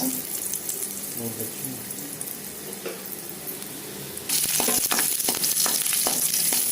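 Garlic, ginger and green chili hit hot gingelly oil and burst into a loud, steady sizzle partway through, following a quieter stretch of kitchen clatter and running water.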